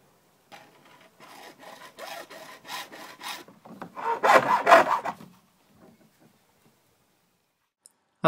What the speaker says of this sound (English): After sawing the guttering to the length that I need